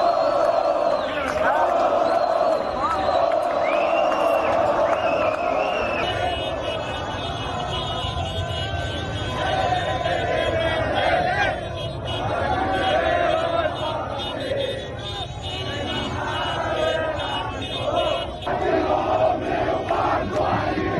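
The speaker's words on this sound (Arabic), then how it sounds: "نشوف كمان هذه الجماهير فرحتها في كل مكان كانت ازاي" Al Ahly football fans celebrating, a loud crowd of massed voices cheering and chanting with shouts rising over a sustained roar, close and energetic from start to end.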